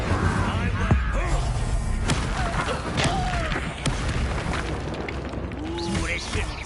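A fire spell being cast in the video game Hogwarts Legacy amid a dense, continuous wash of combat effects, with booming bursts and short whooshing sweeps over steady game noise.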